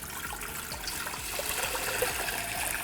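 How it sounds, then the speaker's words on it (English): A gallon of water poured for a Cajun turkey brine, a steady splashing trickle with a rhythmic gurgle running throughout at moderate, close level, without any talk. "the first thing we're gonna start off with is a gallon of water"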